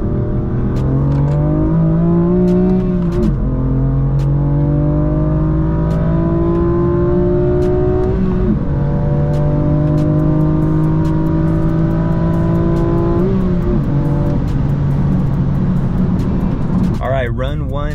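A stock manual F82 BMW M4 Competition pulls hard from 60 to 130, its engine note climbing through each gear with brief dips at the shifts, loud and close from inside the cabin.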